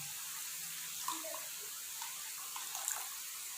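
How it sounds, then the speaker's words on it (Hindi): About half a litre of water is poured into a pot of beef kofta and egg curry, making a steady, soft hissing splash at a low level that runs throughout with no speech. "तो अब हम इसमें तकरीबन आधा लीटर इसमें पानी शामिल करेंगे"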